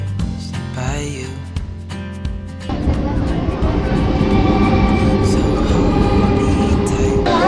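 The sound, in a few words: train departing a station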